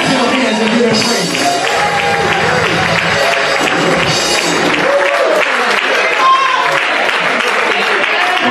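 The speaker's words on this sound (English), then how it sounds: "Clap your hands and give him praise." A church congregation at Sunday morning worship claps in praise, loud and continuous, with voices, singing and music running over the clapping the whole time.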